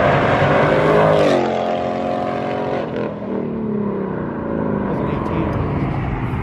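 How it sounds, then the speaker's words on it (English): A Ford Mustang and a Chevrolet Camaro street race, their engines roaring loudly close by with rising and falling revs as they pass, while people talk over the noise. "Mustang outtakes the Camaro."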